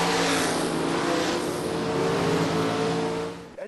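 Loud, sustained engine roar from a car at the Centre Pod drag racing strip, holding a steady droning pitch up close before cutting off sharply at the end.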